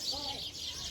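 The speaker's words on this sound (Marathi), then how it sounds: "तर किती छान अशा चिमण्या किलबिल किलबिल करतात" Sparrows chirp in a tree where rice grains have been scattered below, a brief flurry of faint, high twittering with a voice speaking softly beneath.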